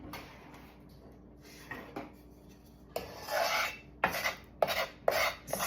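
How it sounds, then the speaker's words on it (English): Leftover carbonara bits are scraped from a pan in a series of short rasping strokes, quiet at first and then louder and more frequent near the end, with no voices. "Scrape up these bits that didn't want to leave the pan."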